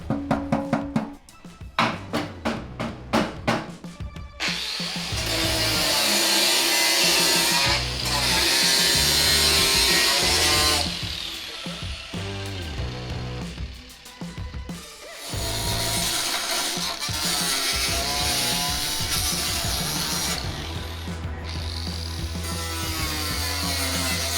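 A power tool cuts through a single sheet of metal on a commercial set, giving loud sustained grinding and whining passes broken by short pauses and a few sharp rattling bursts at the start, close and harsh.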